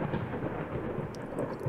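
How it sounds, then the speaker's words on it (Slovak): A thunderstorm in the horror game Layers of Fear gives a steady low rumble of rain and distant thunder throughout, with a few brief sharper cracks near the end. "Búrka je zaujímavá."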